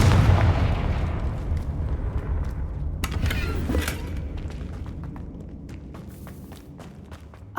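Confringo fire spell blast in the video game Hogwarts Legacy: a loud booming burst near the start that decays into a rumbling tail with scattered crackles and light footstep-like ticks, no voices.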